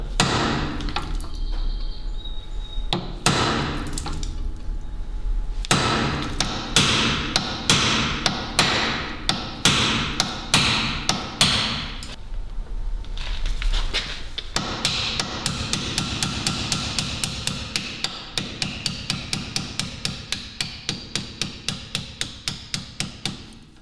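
Repeated sharp metallic hammer blows drive out a Brembo rear brake caliper pin, starting in irregular bursts and then settling into a fast, steady run of ringing strikes, loud and close.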